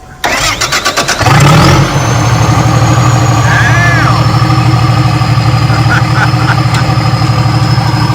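A swapped motor cranks briefly with a few rhythmic turns, then catches and settles into a loud, steady idle close by, with voices heard over the running engine.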